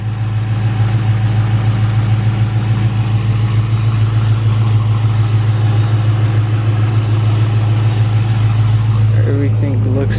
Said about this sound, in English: It idles good, like I said.